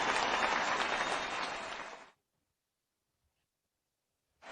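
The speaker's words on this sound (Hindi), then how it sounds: "जोरदार तालियां देते हुए उनका स्वागत कीजिए।" An audience gives loud, steady applause to welcome a speaker at a health talk, lasting about two seconds before stopping abruptly. Near-silence follows, and a new sound starts right at the end.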